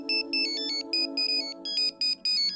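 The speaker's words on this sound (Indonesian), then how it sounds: "Ponselku berdering." A mobile phone ringtone plays a bright, repeating electronic melody in short rhythmic bursts, loud and close, with no voices.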